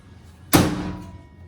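Door of a Polaris RZR S900 side-by-side, fitted with a full aftermarket door, swung shut in a single close, sharp slam followed by a short rattling decay.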